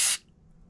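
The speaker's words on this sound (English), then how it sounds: "Sprayed some through that." Cleaner sprayed through the carburetor ball valve of a 37-year-old Harley-Davidson motorcycle, a single loud close hissing burst lasting a fraction of a second before cutting off to a quiet hum.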